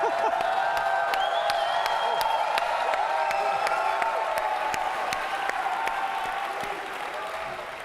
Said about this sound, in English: They're just going to keep cheering.